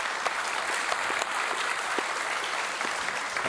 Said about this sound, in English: We'll go have a round of applause.